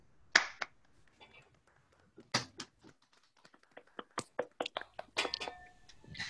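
Scattered, sparse claps and finger snaps from participants unmuted in an online session, isolated sharp hits with gaps between them, quiet and uneven.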